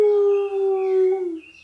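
A dog howling in one long, steady, loud tone that wavers slightly and trails off at the end, close by with nothing else behind it.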